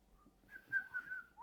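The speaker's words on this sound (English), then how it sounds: "You learned how to whistle breathing in?" A person whistles while breathing in, producing a thin, wavering tone that rises and sustains for about a second in an otherwise quiet room.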